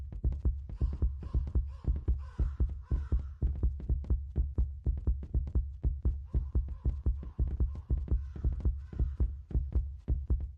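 Steady, looping heartbeat from the horror video game Duder, a regular thumping double pulse that is loud, close and alone throughout with no talk over it.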